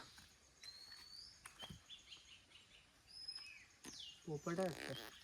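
Scattered high chirps and whistled calls of a small black bird come from nearby trees in a quiet village forest, with a brief voice near the end.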